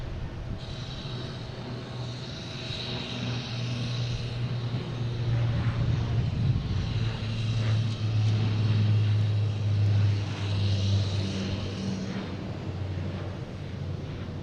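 A Porter airliner landing at Boston Logan airport, a steady broad engine roar with a low hum and whining tones that swells and fades over several seconds, heard from outside under wind noise.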